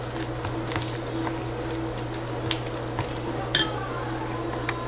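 Thick bonda dough being mixed by hand with buttermilk in a bowl, giving soft wet squishing and occasional light clinks against the bowl over a steady low background hum, with no talking.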